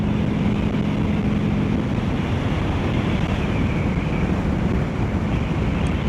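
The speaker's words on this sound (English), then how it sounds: "Seems like the wind now is coming from like the side rear." Constant roaring wind rushing past a rider's helmet on an Indian Scout motorcycle, a steady broadband buffeting with a low engine drone underneath and no voices.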